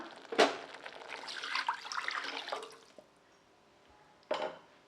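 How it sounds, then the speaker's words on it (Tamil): A short splash, then water poured steadily into a pan for a couple of seconds, close and fairly quiet, followed by another brief splash. "இப்போ தேவையான அளவுக்கு தண்ணி சேர்த்திக்கலாம்"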